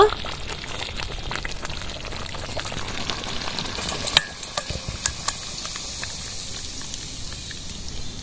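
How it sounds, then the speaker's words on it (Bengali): Raw mango sweet-sour-spicy pickle with chili powder boils in a pan, bubbling and sizzling steadily while a spoon stirs and scrapes, with one sharp clack midway. "আচারটাকে এবার আমি পাঁচ মিনিট ভালো করে ফুটিয়ে নেবো"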